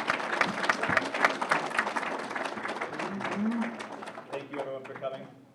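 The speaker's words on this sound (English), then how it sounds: "can we have one more round of applause for our panel?" An audience gives a round of applause for a discussion panel, dense clapping in the first half that fades under speech and crowd chatter toward the end.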